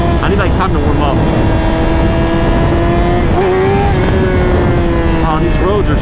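A motorcycle is ridden on rough, sketchy roads, its engine droning loud and close with uneven revs and pitch wobbles, and heavy wind rumble underneath.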